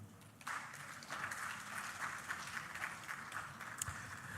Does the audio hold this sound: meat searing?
no